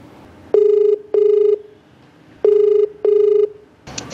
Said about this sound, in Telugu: కాల్ చేస్తానండి.